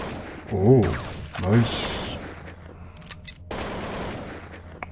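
Two loud, sharp sniper rifle shots in a video game crack out about a second apart near the start, with players talking over the game's background noise.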